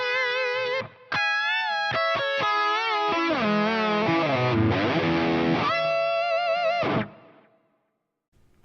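Twin guitar harmony lead a minor third apart, two guitars through a single amp, distorted and continuous with bending, sliding lines for about seven seconds, then a quick decay into quiet.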